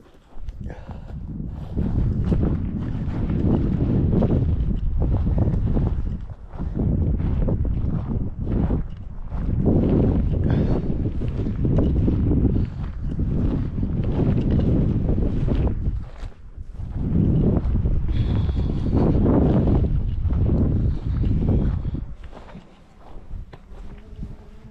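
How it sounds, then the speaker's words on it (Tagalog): Strong wind buffets the microphone in long, loud roaring gusts separated by brief lulls, nearly drowning everything else outdoors during small game and shed hunting. "Kaya pala niya mahangin eh."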